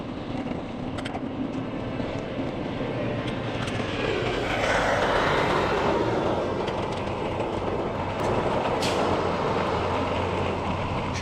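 A train rumbles through a railway crossing near Jasper on a bikepacking route, a continuous heavy rolling roar with clacking wheels, loud and close, swelling slightly midway as cars pass.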